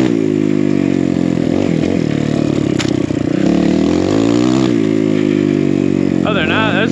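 A BBR KLX170 dirt bike engine ridden through snow, loud and close with a buzzing single-cylinder drone that rises and falls with throttle, and a voice talking over it.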